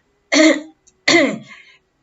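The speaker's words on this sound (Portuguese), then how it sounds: "Às vezes essa pessoa fica sempre com aquele pigarro" Two separate throat-clearing bursts, close and fairly loud, each a rough rasping huff about half a second long with a short pause between, typical of the persistent clearing linked to mouth breathing and thick mucus.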